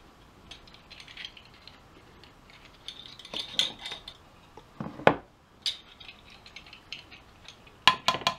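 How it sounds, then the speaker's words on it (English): Cornstarch stirred into cherry juice with a spoon, giving irregular light clinks and taps against the container that are quiet overall, with a few sharper knocks. "So stir your cornstarch up in there real good."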